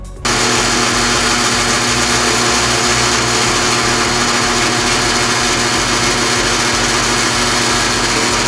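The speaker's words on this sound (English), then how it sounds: "Now we drill." A high-pitched power drill whines steadily and loudly up close, starting abruptly and running continuously without pause.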